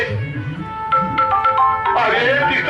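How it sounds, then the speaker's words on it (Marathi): A phone rings with a steady electronic tone repeating over a bed of talk and background noise, near and moderately loud. "फोन आला फोन हे कुठे आता काय करू"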